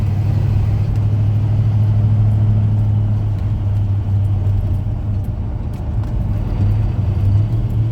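A Chevy C10 truck's engine drones steadily while driving, a loud continuous low rumble with slight shifts in pitch as it is worked through the gears, with no voices.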